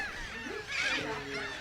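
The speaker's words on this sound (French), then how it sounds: "Plusieurs milliers d'oiseaux se reproduisent sur cette terre" Seabird breeding colony of frigatebirds, terns, gulls and noddies on an uninhabited island, with overlapping honking and squawking calls forming a dense, steady chorus at moderate distance.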